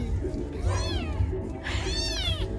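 A cat meows twice in an upset, drawn-out tone, close and clear, over a steady low background hum.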